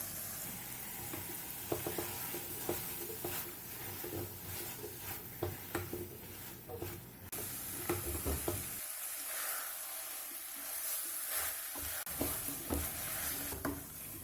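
Mixed vegetables sizzle in hot oil while a spoon stirs and knocks against the pan in irregular scrapes, up close, with the frying hiss steady underneath.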